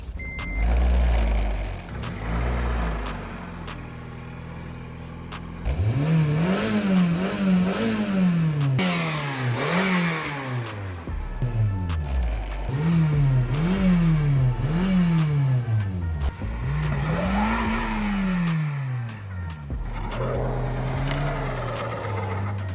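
A Honda Civic engine in a snowy blizzard catches partway through and then revs in repeated rising and falling sweeps. A loud, close, throaty drone runs continuously, with no voices.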